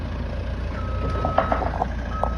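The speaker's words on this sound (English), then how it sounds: "That's what they call a telescopic lift." A telescopic lift on a steel building job site, used to move steel on and off a truck, gives a series of short electronic reversing beeps over a steady low engine rumble, moderately close.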